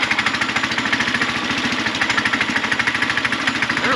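A Manco Intruder II go-kart engine idles roughly with a steady, rapid chugging pulse, loud and close, running alone throughout.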